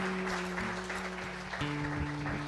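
A church congregation applauds during a sermon, a soft, steady spatter of many hands, held back behind sustained organ-like music tones.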